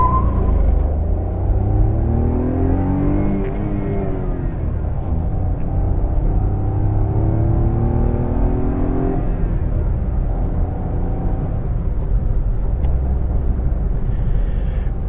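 A 2024 Maruti Swift ZXI Plus engine accelerates hard in first gear with traction control off, its loud revving climbing steadily in pitch before easing, over constant road and cabin rumble.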